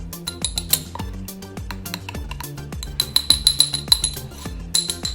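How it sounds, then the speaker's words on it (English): A small spoon stirs butter cauliflower in a dish, clinking repeatedly against the bowl in quick, uneven taps that come in bursts, close and fairly bright, with no talking. "we're going to take a little spoon and we're going to stir this up a little bit here"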